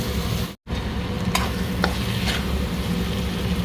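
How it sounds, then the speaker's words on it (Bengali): Chana dal and spices fry in a pan while being stirred, giving a dense continuous sizzle with a brief break near the start and occasional sharp scrapes. "সাথে ভালো করে ভাজবো ডালের সাথে মশলাটা"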